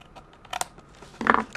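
Scissors snip away a small extra flap of paper from a folded seed box, a couple of short cuts, close and clear with no talking.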